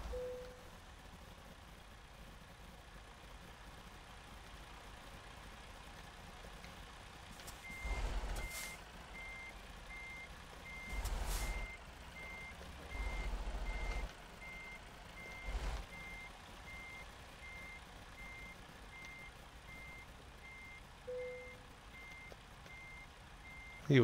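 A semi truck backing up in American Truck Simulator gives off a steady series of evenly spaced reversing beeps over a low engine rumble, with several brief louder bursts of air brake hiss and thumps along the way.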